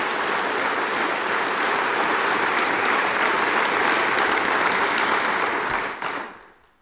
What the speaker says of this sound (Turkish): ve onları tekrar alkışlıyoruz